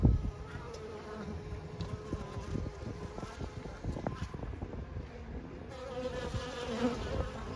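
Honeybees buzz steadily around the entrance of a Layens hive as foragers return with pollen, a dense close drone with individual bees passing the microphone and light wind outdoors.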